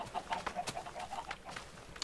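Chickens clucking inside a coop in the video game Minecraft, a few short, bright clucks repeating in a quiet, moderately close sequence with no talking.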